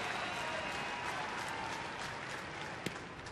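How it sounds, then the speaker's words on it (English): A baseball stadium crowd claps and cheers steadily during a late-inning push for the final out in a Royals at Twins game, a broad distant wash of applause with no clear talk over it. "Well, I like what the crowd's doing right here, trying to get Perkins this final out"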